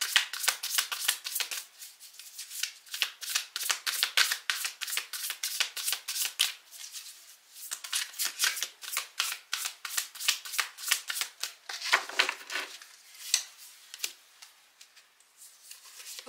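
Tarot cards are shuffled by hand close up, a steady stream of rapid crisp riffling flicks and papery slaps lasting throughout, with no talking.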